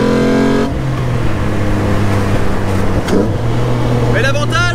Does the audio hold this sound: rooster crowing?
no